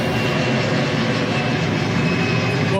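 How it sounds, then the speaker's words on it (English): A plane that has landed in Goma roars overhead as a loud, steady, broadband engine rumble with no speech. "you can hear one of the planes that lands here in Goma frequently flying over my head"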